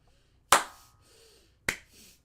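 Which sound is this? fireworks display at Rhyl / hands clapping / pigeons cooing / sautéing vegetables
hands clapping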